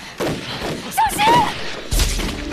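Gunfire crackles through a Chinese anti-Japanese war film battle in a forest, with a sharp burst near the end over tense shouting voices and rumbling background.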